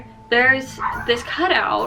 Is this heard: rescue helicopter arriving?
no